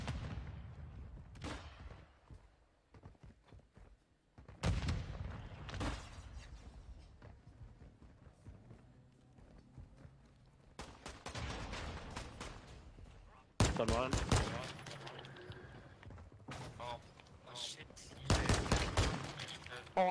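Video game gunfire in bursts of sharp shots and rapid volleys, scattered across the clip with quieter gaps between, heard under occasional talk.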